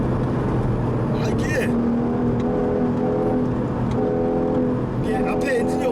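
A manual Porsche 981 Cayman at full throttle in second gear on the Inje Speedium race track, its engine note loud and close, rising and sustained with steady mechanical whir.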